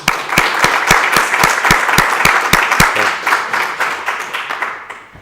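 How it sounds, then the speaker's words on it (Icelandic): Room of people at a town council meeting applauding for the council president's birthday, a loud burst of sharp, steady claps that gradually thins and fades toward the end. "ég held að við ætlum að klappa fyrir hann"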